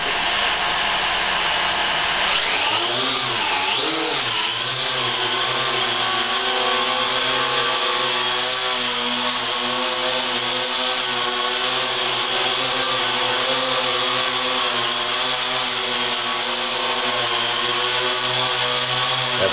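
Syma X8C quadcopter drone motors whine loudly and continuously, the pitch sweeping and wavering early as it climbs, then settling into a steady buzzing hover close by.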